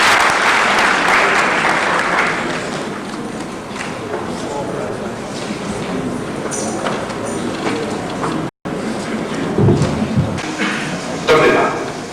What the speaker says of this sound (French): faites-le dire merci avec les applaudissements de la salle